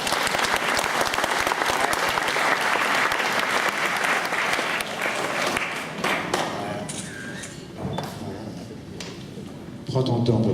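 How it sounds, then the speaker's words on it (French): A ceremony audience at an academy induction in Honfleur claps loudly and steadily, the applause thinning toward the end with a few thumps and voices. "Je vais vous demander d'applaudir mon chapeau."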